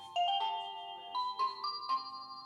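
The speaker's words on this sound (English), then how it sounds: "you'll hear the chime notification that plays when a package is detected" A Reolink D340W video doorbell plays its package-detection chime, a short clear melodic sequence of bright electronic tones, close and alone.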